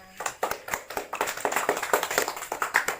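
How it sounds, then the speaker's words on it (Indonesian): Children in a primary school classroom clap for classmates who read aloud, a quick burst of lively, uneven clapping from many small hands, close and fairly loud. "kita kasih aplaus dulu untuk teman-temannya"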